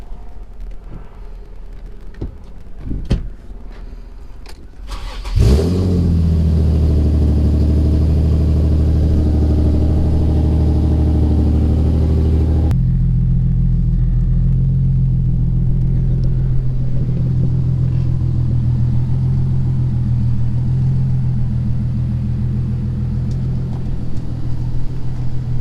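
Nissan 350Z engine cranks over with a few clicks, fires up and settles into a steady, loud rumbling idle close by after a driveshaft install, shifting to a deeper tone partway through.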